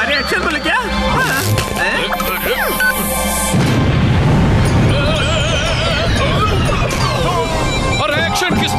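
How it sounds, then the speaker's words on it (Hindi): A sudden cartoonish explosion boom in a Motu Patlu cartoon breaks in partway through, followed by a rumbling crash under busy speech and music. "धमाका क्यों किया?"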